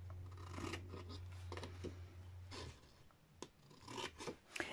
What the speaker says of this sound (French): Tac, on coupe en biais.